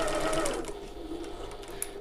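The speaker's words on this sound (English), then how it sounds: "I'm just going to slowly sew around the entire top of the bag" Sewing machine stitching slowly around the top edge of a fabric shoulder bag, a close, steady whirring hum running continuously.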